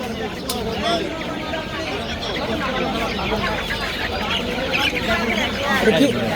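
Chickens and chicks cluck and chatter continuously amid a busy crowd of voices at a poultry market, the birds close and the talk filling the background.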